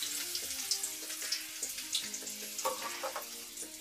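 Finely chopped onion sizzles in hot oil for idli chilli, a soft steady crackling hiss throughout with some faint tonal background sound.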